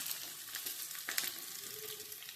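Ginger, garlic and onion fry in a pan for a homemade chicken dish, giving a soft, continuous sizzle with a few brief spatters, quiet and close with no voices.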